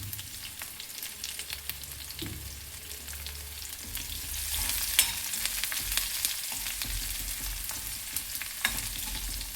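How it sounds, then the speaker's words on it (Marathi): Finely chopped onion frying in a pan for a sprouted moth bean usal, with a steady crackling sizzle and occasional stirring scrapes, close and moderately loud, with no talk. "आता टाकत आहे बारीक चिरलेला कांदा"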